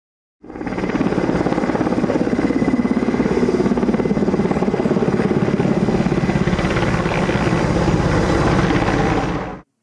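A firefighting helicopter drones steadily overhead while fighting a large village wildfire, its rotor chopping in a rapid, even thrum with a broad engine roar that stays loud throughout.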